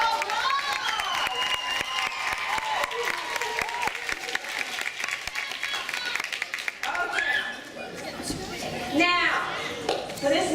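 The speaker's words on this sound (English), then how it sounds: "Let's give Michael a big round of applause" A crowd at a children's science show applauds Michael with sustained clapping and cheering, mixed with chatter and children's excited voices that grow more prominent toward the end.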